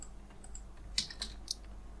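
Typing on a computer keyboard: a few faint, close, irregular keystrokes in a quiet room, no voice.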